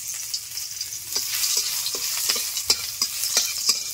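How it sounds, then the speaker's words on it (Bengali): Crushed garlic fries in hot oil over white cumin. A bright, steady sizzle fills the clip, with light scraping taps of stirring scattered throughout, close and fairly loud, with no voices. "এবারে চলে গেল সেই রসুন"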